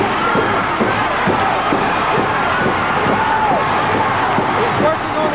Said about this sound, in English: Remember this crowd, they're coming alive.